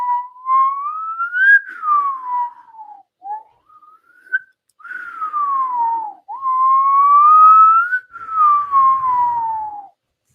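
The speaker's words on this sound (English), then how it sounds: "I'm just not good at exhale whistling." A single whistler exhale-whistles wavering, gliding tones in long phrases, rising and falling in pitch with brief breaks, clear and close with no talk.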